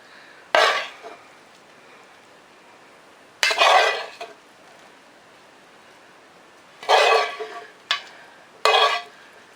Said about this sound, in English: So we're just gonna spoon over our veg.